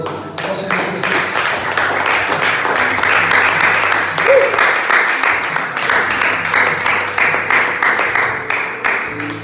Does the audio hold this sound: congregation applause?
yes